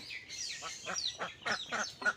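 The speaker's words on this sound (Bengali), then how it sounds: "এখানে রাজাহাঁস, চীনা হাঁসের 3টা বাচ্চা আছে" Domestic ducks and geese, including Chinese geese, honk and quack in a quick series of about half a dozen loud, nasal calls close by in a farmyard, with brief gaps between them.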